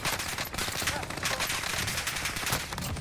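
Dense automatic gunfire from Call of Duty Warzone, a loud continuous spray of rapid shots with sharp bursts throughout a short moment.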